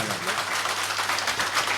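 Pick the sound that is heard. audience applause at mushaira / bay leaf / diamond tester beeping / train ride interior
audience applause at mushaira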